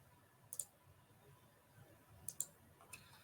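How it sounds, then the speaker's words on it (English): Faint computer mouse clicks come in small clusters, a double click early and another pair later, plus a single click near the end, close and quiet over a low room hiss. "I click on that."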